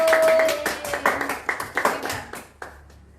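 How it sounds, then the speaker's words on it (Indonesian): Brief classroom applause for a student group in a fourth-grade physical education lesson on basic jumping, a short burst of clapping hands that fades into scattered, separate claps over about three seconds. "Beri aplaus buat kelompok 1."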